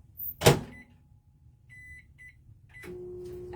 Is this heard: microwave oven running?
yes